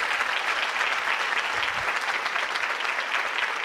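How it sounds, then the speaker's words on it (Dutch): Audience applause at a student debate competition, a dense, continuous wash of clapping from a large crowd, steady and fairly loud throughout. "Dus mag ik een heel groot applaus inderdaad voor de organisatie die dit heeft mogelijk gemaakt."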